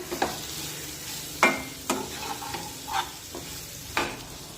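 Dry beans and vegetables with salt being stirred in a pan, giving a faint sizzle broken by several distinct spatula scrapes and clinks at irregular intervals, with no talking.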